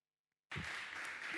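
Audience applause breaks out abruptly after a brief silence at a constitutional dialogue event, steady broadband clapping from a crowd that continues at even loudness to the end.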